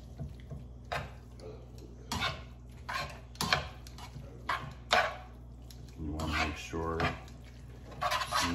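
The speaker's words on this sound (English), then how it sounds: "I'm just gonna toss it in that sauce, that buttery, lemony sauce." Linguine noodles tossed in a pan of buttery lemon sauce, giving scattered soft clinks and scrapes of a utensil against the pan in short bursts, with quiet pauses between them.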